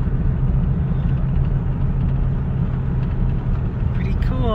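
A car driving along a road between high autumn cliffs: steady, loud low engine and road rumble throughout, with a voice briefly chiming in near the end.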